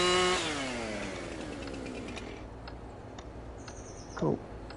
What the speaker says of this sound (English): I'll just pull a chainsaw out my pocket.